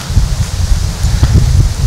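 Wind gusting across an open golf course, a steady low rumble and buffeting against the microphone with leafy rustling, continuous and fairly loud throughout.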